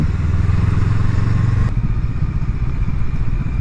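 A 2020 Honda Rebel 500 motorcycle rides past with its engine droning close and loud under wind rush. The tone changes abruptly partway through, as with a gear shift.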